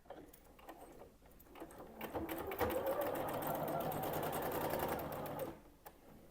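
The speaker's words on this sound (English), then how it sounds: "I'm going to go ahead and just start chain piecing to make this sawtooth star." A sewing machine chain piecing a sawtooth star quilt block, a few soft clicks and then a fast, steady mechanical whirr of stitching for about three seconds before it slows and stops.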